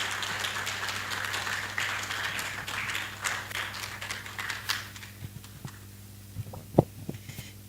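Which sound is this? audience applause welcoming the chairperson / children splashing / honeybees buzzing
audience applause welcoming the chairperson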